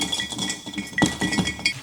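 Granola pours into a glass gallon jar, with dense, bright clinking and rattling as the clusters strike the glass in quick irregular bursts, close and fairly loud.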